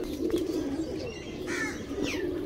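Ferozpuri pigeons coo softly in low, rounded bursts, with a few brighter chirps from other birds over a steady background hum.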